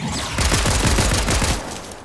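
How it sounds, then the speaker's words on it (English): Rapid gunfire from the Fortnite video game crackles in a loud, close burst of repeated shots lasting about a second before fading. "we have someone shooting at us."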